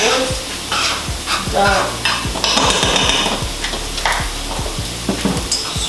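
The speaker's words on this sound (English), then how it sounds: "while our steaks are cooking" Steaks searing in a pan with a loud, steady sizzle, overlaid by repeated sharp scraping and stirring strokes, close up and continuous, with a brief spoken word near the end.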